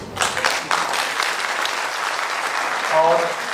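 Audience applause at a talk on homosexuality, a burst of clapping from many hands that starts strong and fades to a steadier patter, with a voice speaking over it near the end.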